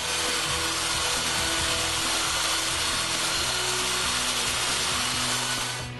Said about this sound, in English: I'm sanding the floating tenon flush with the frame right now.